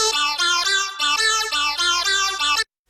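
A harsh, gritty mid-range bass tone, the part stripped out by the Soothe plugin, plays loud and alone as a rhythmic run of buzzy synth notes before cutting off abruptly.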